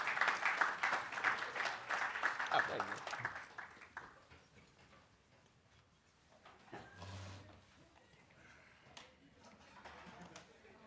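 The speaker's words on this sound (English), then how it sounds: "let's give them a round of applause as they come forward" An audience at a student athlete summit claps for the first few seconds. The applause thins out and gives way to a quiet room with scattered small noises.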